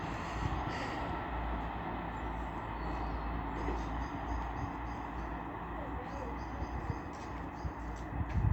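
British Rail Class 158 diesel unit 158903, the rear set of a passing train at Castleton station on an evening: a steady rolling rumble of wheels with faint rail clatter, heard at moderate distance.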